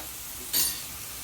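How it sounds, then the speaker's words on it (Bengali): Masala for rohu fish curry, with Kashmiri chilli powder, being stirred and sautéed in a pan: a single brief scrape over a faint, steady sizzle, close and alone. "এই সব কিছু দিয়ে আবার ভালো করে কষে নেব"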